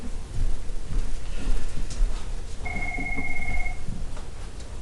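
A telephone rings once in a room during a math lesson: a single clear, steady electronic ring, moderately loud over a constant background hiss.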